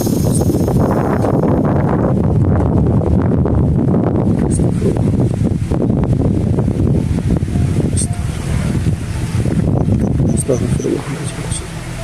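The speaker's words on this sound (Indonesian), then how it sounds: "Ini angin kencang, kalian cek sendiri." Strong wind roars and buffets a microphone outdoors in a steady, loud, dense rush that lasts throughout.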